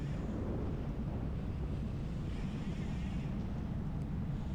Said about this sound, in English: I am directly in the wind, and I'm going to even get worse by going into this headwind